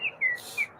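A pet bird gives three short whistled chirps, near and clear, with a brief burst of airy noise between the second and third calls.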